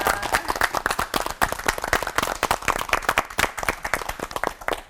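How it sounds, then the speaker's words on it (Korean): An audience at a church lecture on the Gospel of John claps steadily, with dense, even applause that carries on through the whole stretch. "세 분의 목사님께 다시 한번 박수 부탁드립니다."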